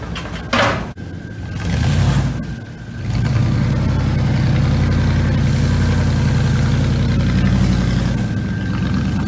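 Buick Roadmaster wagon engine idling with exhaust running, a loud, steady close-up rumble after a brief rev at the start, heard on its own.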